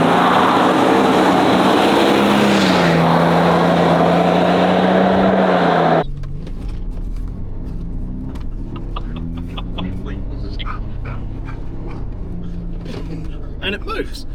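A Toyota Land Cruiser 200 series engine holds a loud, steady high-rev drone at the throttle during launch control, then cuts off abruptly about six seconds in and gives way to a lower rumble as the vehicle pulls away.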